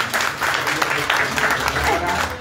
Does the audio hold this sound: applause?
yes